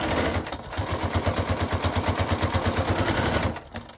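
A sewing machine stitching a cork billfold wallet runs in a fast, steady mechanical rhythm for several seconds, close and loud, then stops.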